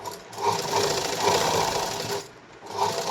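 A sewing machine stitching the shoulder of a blouse runs in a steady, close mechanical whir with rapid needle clatter, pausing briefly before starting again.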